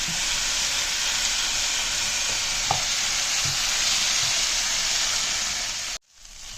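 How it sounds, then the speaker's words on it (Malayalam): Jackfruit seeds stir-frying in oil with masala, a dense constant sizzle up close with a few soft knocks of the spoon, cutting off abruptly near six seconds before resuming, no voices. "ഈ ചക്കക്കുരു നമ്മൾ ഇട്ട് കഴിഞ്ഞതിന് ശേഷം ഈ എണ്ണയിൽ കിടന്ന് നല്ലതുപോലെ ഒന്ന് ഫ്രൈ ആവണം."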